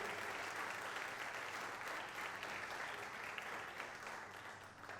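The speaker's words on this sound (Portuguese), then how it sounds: "Quantos são filhos de Deus que podem aplaudir a Ele bem forte?" Church congregation applauding loudly and continuously, a dense wash of clapping with no voice standing out above it.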